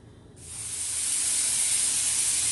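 A kitchen pressure cooker cooking chana dal pulao on a gas stove lets out its whistle: after a brief quiet moment, a loud, steady, high-pitched jet of escaping steam starts and holds continuously, close by.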